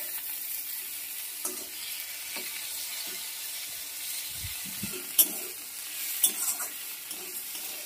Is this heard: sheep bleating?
no